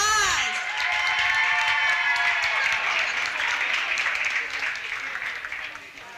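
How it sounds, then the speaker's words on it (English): An audience applauds and cheers as students walk onto the stage at an annual commemoration event, with loud, sustained clapping and a few whoops that slowly taper off. "Everybody give them a round of applause."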